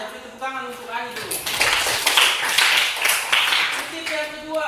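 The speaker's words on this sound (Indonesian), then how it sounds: "Kita beri tepuk tangan untuk Ani dulu." A classroom of students breaks into a few seconds of clapping for a classmate after a short stretch of talk. The clapping is fairly close and loud, with voices around it before and after.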